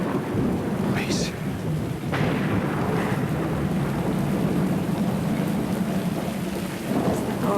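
Heavy rain pours steadily over a lake while thunder rumbles and cracks, loud and continuous, with sharp bursts near the start and middle.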